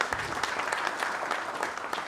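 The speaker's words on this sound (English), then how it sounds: "Would you give them a round of applause?" Applause for the mob at an outback music event, steady dense clapping throughout at moderate level with no talk over it.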